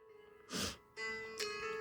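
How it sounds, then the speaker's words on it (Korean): Two sharp sneezes from a woman knitting a vest, a loud burst followed by a second, weaker one a moment later. "아이고 재채기가 재채기가"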